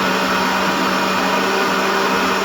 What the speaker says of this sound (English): we're gonna just blend it for about 20 more seconds.